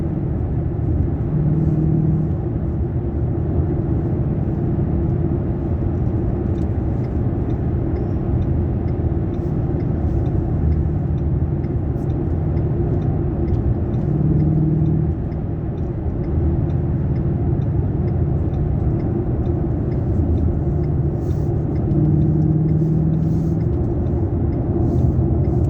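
A Ford Mustang 5.0 Coyote V8 cruises on a dual carriageway near Edinburgh, heard from inside as a steady, heavy low rumble with road roar that barely changes, with no talk.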